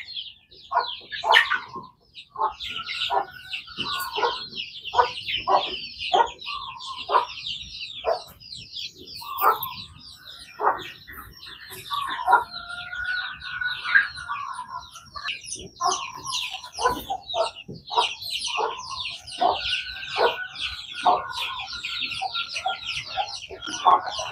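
Chickens cluck and squawk steadily while feeding on grass outdoors, a dense overlapping chorus of close clucks with sharp sporadic calls, and fainter birds chirping in the background.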